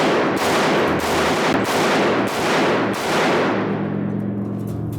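Four loud, sharp reports from a Smith & Wesson Model 29 .44 Magnum revolver, spaced about a second apart, each with a booming tail, followed by a fading echo.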